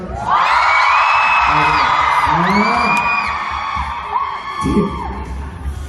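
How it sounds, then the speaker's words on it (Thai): Studio audience at a Wonder Girls variety game segment screaming and whooping loudly in a burst that tapers off, with a host's voice joining near the end. "ใครชอบทีมแรก ส่งเสียงกรี๊ดหน่อยครับ"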